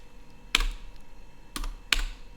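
Keys clack on a computer keyboard as a create-database command is typed into a command-line terminal: three distinct, fairly loud keystrokes spaced apart against a quiet background hum.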